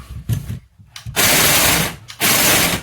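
A Black+Decker 36 V lithium cordless hedge trimmer rattles and hammers against a wall in loud mechanical bursts, two long stretches separated by brief pauses, with no talking.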